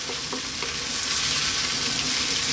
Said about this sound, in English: We're going to continue on this heat for 5 to 6 minutes now. You can give it a stir every now and then.